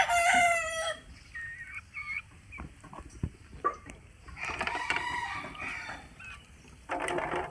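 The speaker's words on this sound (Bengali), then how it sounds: "এই যান আমাদের দেশি মুরগি খামার।" Native chickens resting on a farm after being fed and watered: a loud rooster crow opens, followed by scattered clucks and short calls, some near and some farther off, with a burst of louder clucking near the end.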